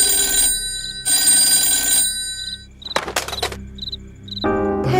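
A telephone rings in short, repeated electronic trills with gaps between them, alongside other sharp tones and background sounds in a Telugu film scene.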